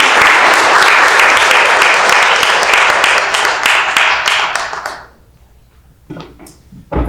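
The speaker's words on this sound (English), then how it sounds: "let's give a big hand clap to Andrew." An audience at a community breakfast claps loudly for about five seconds, a dense burst of applause that fades to near silence, followed by a few faint sounds.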